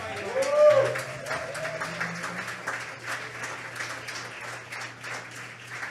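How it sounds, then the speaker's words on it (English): Audience clapping at a spoken-word evening on love, a moderate, steady wash of hands with a low hum underneath and a faint voice near the start. "clap some more for the young man"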